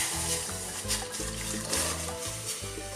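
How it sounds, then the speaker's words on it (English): Chickpeas tipped into a pan with frozen spinach, garlic cloves and crispy bacon, giving a brief wet hiss and sizzle with some stirring clatter, close and fairly quiet. "Into a pan with the chickpeas."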